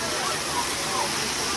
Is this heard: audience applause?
no